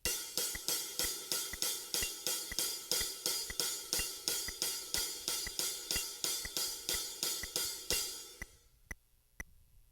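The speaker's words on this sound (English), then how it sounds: "The shaker part goes like this." A shaker plays a steady, even groove of crisp rhythmic shakes for about eight seconds and then stops, leaving a few faint clicks alone at low volume.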